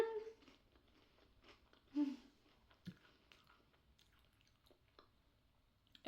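A Japanese chocolate snack with a dense filling being chewed close up: soft, wet mouth sounds with a few sharper bites, quiet overall, with faint murmurs between chews.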